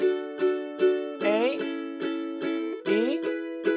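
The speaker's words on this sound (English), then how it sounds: "Strumming twice on each beat sounds like this." A ukulele strums chords with two strokes per beat, a steady pattern of sharp bright strums moving through chord changes, played close and alone.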